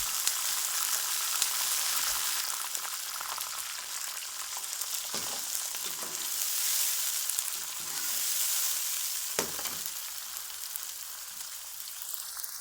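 Peas frying in a karahi for an aloo matar anda karahi, a steady broad sizzle with soft stirring scrapes, continuous and close, with no talking.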